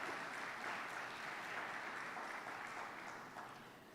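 A church congregation applauds at a youth service, a steady wash of clapping heard at a distance and fading slightly toward the end.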